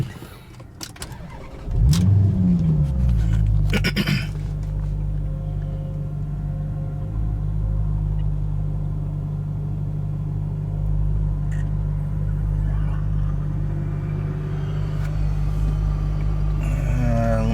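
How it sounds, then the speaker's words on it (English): A Maserati GranTurismo engine cranks and catches with a loud roar, then settles into a steady, deep idle that rumbles on for a long stretch. "I'm gonna go ahead and fire up the car"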